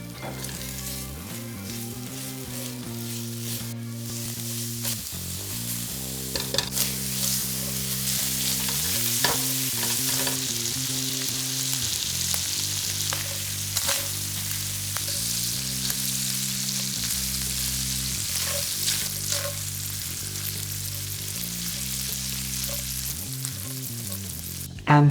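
Sausage sizzles and crackles in a pan with guanciale strips and toasted black pepper, a steady loud frying hiss with scattered pops and occasional stirring over a low background hum.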